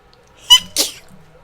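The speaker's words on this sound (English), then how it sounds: "That's a perfectly normal sneeze." Someone in a cartoon gives a sharp, close sneeze: a quick intake, then a loud burst, over in about a second against near silence.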